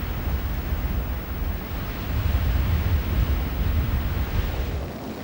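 Wind buffets the microphone in a continuous, loud rumbling gust at the 124th Open Championship golf course, swelling slightly midway and easing toward the end.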